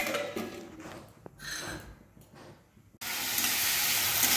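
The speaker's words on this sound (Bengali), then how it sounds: "আলুটাকে ভেজে নিচ্ছি।" Potatoes frying in a pan in a home kitchen, a steady loud sizzle and hiss that starts abruptly partway through after quieter kitchen clatter and handling.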